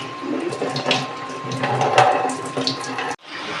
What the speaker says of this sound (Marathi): असा गार पाण्याने धुवून घ्यायचा